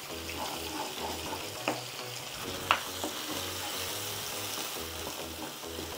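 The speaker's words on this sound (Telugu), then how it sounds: "హాఫ్ స్పూను పసుపు, 1 స్పూను ఉప్పు వేసుకొని మంచిగా ఎర్రగా ఏగనిద్దాం." Masala with turmeric and salt sizzles steadily in a pan, a continuous fry hiss with a couple of sharp utensil clinks and no talking.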